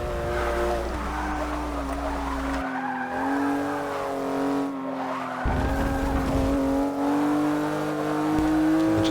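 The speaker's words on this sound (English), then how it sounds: "the back end will want to just kick around on you." Dodge Challenger Hellcat tires skidding and squealing in Forza Motorsport 6, a loud sustained screech over the engine's steady roar, with brief dips as the car slides and the tone shifts.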